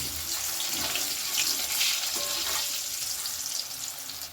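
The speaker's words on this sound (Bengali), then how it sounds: "সামান্য একটু হলুদ আর সামান্য একটু লবণ দিয়ে খুব সুন্দর লাল করে এগুলোকে ভেজে তুলে নেব" Potatoes frying with turmeric and salt for a Bengali chhechra dish, a dense continuous sizzle that sounds watery and splashy, close and steady for a few seconds, no talking.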